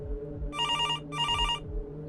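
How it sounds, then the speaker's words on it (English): A telephone bell rings in two bursts separated by a short gap, clear and moderately loud against a low background hum. "The sound of that phone ringing had become sickening"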